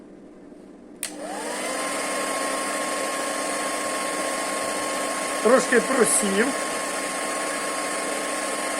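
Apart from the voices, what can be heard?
hair dryer running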